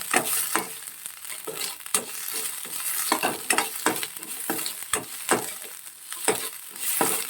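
Ginger garlic paste fries in a pan with a bright sizzle, broken by regular, fairly close scraping strokes from stirring, about one every half second, with no talking.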